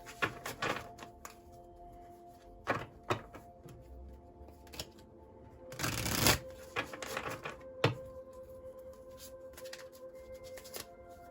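Oracle cards are shuffled by hand in quiet bursts of riffling and soft slaps, with one louder flurry midway, close and alone against a faint background hum.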